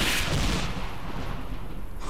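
Explosions in a video game set around Pripyat: a loud, dense burst of booming blasts that rumbles on and fades over about two seconds, with no voices.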